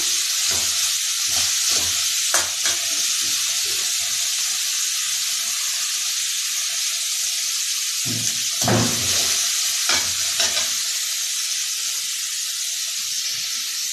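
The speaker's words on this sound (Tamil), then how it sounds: "இது நல்லா கொஞ்சம் வதங்கட்டும்." Ingredients for raw banana puttu sauté in a hot pan, giving a continuous loud sizzle with occasional stirring clatters and scrapes and no talking.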